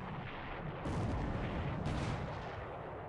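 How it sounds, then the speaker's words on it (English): Warship main guns firing in the naval strategy game War in the Pacific, two heavy booming blasts about a second apart over a constant dense rumble, moderately loud and distant. "Let's get the big guns in here."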